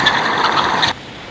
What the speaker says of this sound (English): Cars are squealing like crazy.